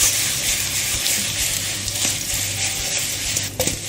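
Finely chopped garlic stirred into potatoes frying in a pan, a loud continuous sizzle with scattered scrapes and knocks of a utensil.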